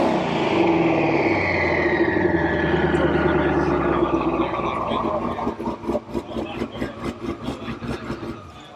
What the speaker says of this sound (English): We like to rev our cars up.